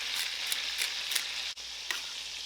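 A burger sizzles in a pan with rosemary, giving a loud, continuous frying hiss broken by a few light stirring clicks and one brief dip.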